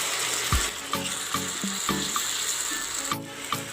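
Fried fish pieces stirred in masala for Malabar fish roast, a close sizzle of frying with a handful of scraping and knocking stirs spaced about half a second apart, no voices.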